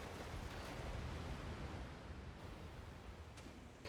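Constant broadband rushing of a waterfall in the Elden Ring DLC, soft and steady with no voices, like distant falling water filling the space.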